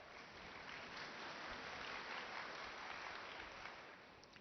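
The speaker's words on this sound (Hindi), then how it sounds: "ताली बजाओ" Sustained applause from an audience at a spiritual discourse, a dense steady clatter of many hands filling the room at even loudness from start to finish.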